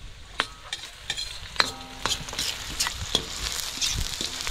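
Buko pancit, noodles with young coconut strips, stirred in a hot pan: steady scraping and clacking of the utensil over a soft sizzle of frying, with sharper knocks every second or so, close and fairly loud.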